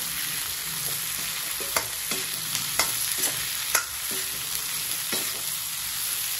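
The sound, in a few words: capsicum and onion being stirred and fried in a pan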